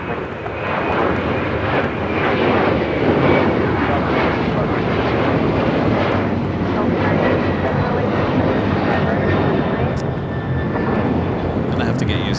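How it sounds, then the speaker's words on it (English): An Air New Zealand Boeing 777 arrives at LAX from Auckland, a loud, close, sustained roar of jet engines that holds strong for the whole stretch before easing slightly at the end. "we'll head over as the Air New Zealand 777 next arrival"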